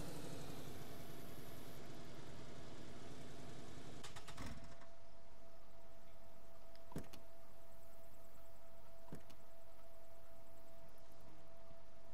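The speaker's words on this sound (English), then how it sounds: "Turn off your engines, man." Vehicle engines idling in the survival video game DayZ, a steady low hum with a constant mid tone holding across the whole stretch, and a few sharp clicks and thumps along the way.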